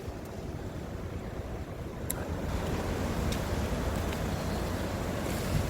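Sea waves crash over rocks and a breakwater on a chilly day, a steady wash of surf and wind noise that grows louder midway, with a few sharp splashes and no talking.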